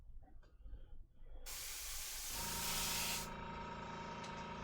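Airbrush spraying high density acrylic paint onto a miniature car with brass etch parts: a steady, loud hiss that starts abruptly after quieter handling noise, holds for a couple of seconds, then softens to a lower whirring compressor hum.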